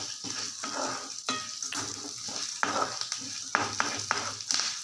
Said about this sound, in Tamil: நல்ல எண்ணெயில் பொரிஞ்சு வரட்டும்